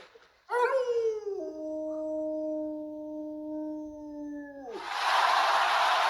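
A dog howls in a long, sustained, sing-song tone that starts with a few rising yelps, then holds steady before cutting off abruptly into a burst of noisy rustle.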